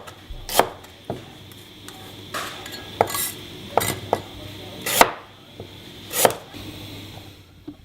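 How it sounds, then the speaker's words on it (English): Green onions and ginger are cut into big slices, with a knife striking the board in sparse, sharp, separate knocks at irregular intervals, close and fairly loud over a quiet kitchen background. "chop up some green onions and some ginger into big slices"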